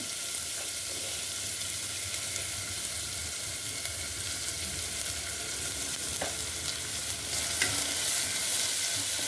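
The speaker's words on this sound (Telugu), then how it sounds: "ఉల్లిపాయలు గోలుతుంటే ఇది కరివేపాకు వేయాలి, ఉప్పు వేయాలి." Sliced onions with curry leaves and salt frying in hot oil, giving a steady, close sizzle with occasional stirring scrapes and clinks throughout, no voices.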